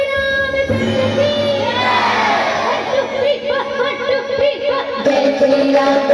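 A crowd chants 'Jai Shri Ram' together at a devotional gathering, loud, sustained voices with a rhythmic, sung quality, and a few shouts and laughs mixed in.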